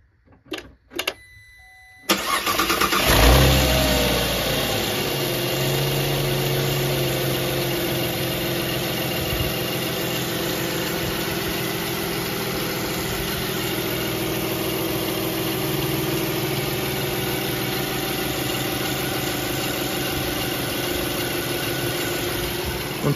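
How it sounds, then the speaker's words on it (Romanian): Car engine cranks and starts after a couple of short bursts, then settles into a steady idle with a fine, persistent ticking from the high-pressure fuel pump, close and continuous without talk. "Țăcătitul ăla se aude de la pompa de înaltă, deci nu e o problemă."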